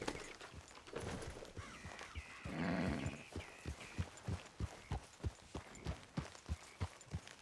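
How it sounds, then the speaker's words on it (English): Horse hooves clop in a steady, even rhythm in Red Dead Redemption 2, with a brief whinnying call near the start, and no talking. "What a good horse."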